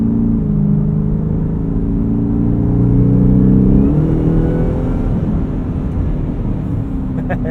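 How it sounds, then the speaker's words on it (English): A 2024 Ford F-150 Raptor R accelerating, its engine roaring loud and close from inside the cab with a steadily rising pitch, then settling into a constant drone. "And you just breathe on the throttle and this thing rockets forward."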